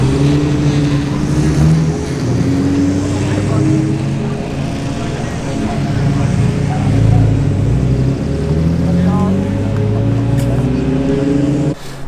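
Car engines rumble and rev at a Portland Cars and Coffee meet, a continuous mix of idling and rising engine notes from nearby vehicles, with outdoor crowd ambience and some voices in the background.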